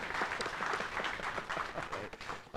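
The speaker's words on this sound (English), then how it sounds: "So this is your applause." Audience applause at a retail conference session in Munich, a steady wash of many hands clapping at moderate volume, sustained throughout with no speech over it.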